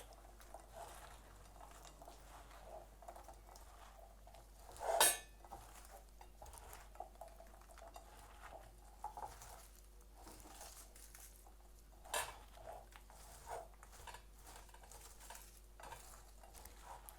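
Mosaic cake ingredients stirred in a bowl: faint, continuous scraping and soft clinks of a utensil, with a couple of louder knocks against the bowl and no talking.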